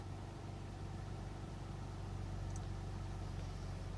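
A Dodge Grand Caravan engine idles right after an oil change, a steady low continuous rumble with a constant hum, close and even throughout with no talking.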